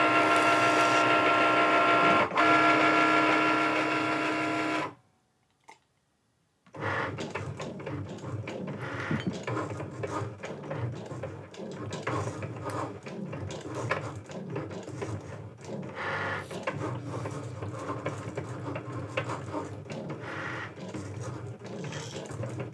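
A Cricut cutting machine embosses with an embossing pen, with a steady whirring motor at first, a brief pause, then uneven mechanical whirs, shuffles and knocks as the carriage moves, close and fairly loud, with no talking.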